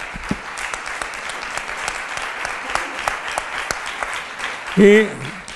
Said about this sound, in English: I want you to stand up and give him a round of applause